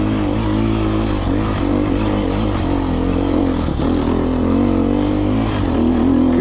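A Sherco motorcycle engine pulling hard and loud up close, a rough continuous drone whose pitch rises and shifts as gears change.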